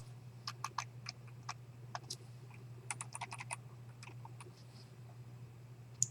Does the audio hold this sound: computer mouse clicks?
yes